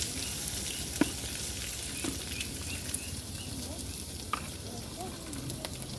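Onions sauté in a pan for a prawn and dried-fish curry, giving a soft, steady sizzle with a few faint clinks of a utensil now and then.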